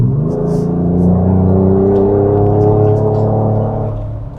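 A 2025 Ford Ranger Raptor V6 pickup engine pulls hard under acceleration, a loud, steady low drone with rising harmonics, close by, fading slightly at the end.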